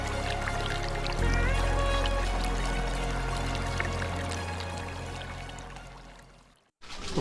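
Waterfall along the Kedarnath trek in the Himalayan mountains, a loud steady rush of pouring water close by, continuous and broadband until a brief cut near the end.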